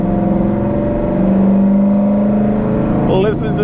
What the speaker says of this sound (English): Listen to that intake noise.